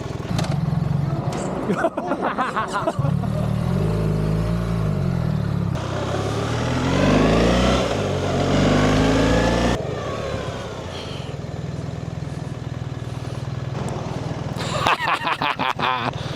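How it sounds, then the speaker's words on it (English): A BMW R1300 GS Adventure motorcycle engine rumbles and revs through changing pitches, mixed with background chatter and voices nearby, the engine swelling louder midway. "I've just picked up the motorbike and we're riding away."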